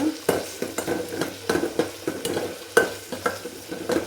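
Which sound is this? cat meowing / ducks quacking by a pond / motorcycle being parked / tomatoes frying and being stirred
tomatoes frying and being stirred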